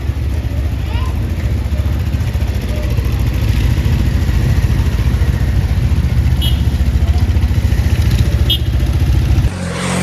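Motorcycles set off on a road trip to Sharaan in Pakistan, with a loud, close engine drone and a steady rhythmic throb that continues throughout before it shifts sharply near the end.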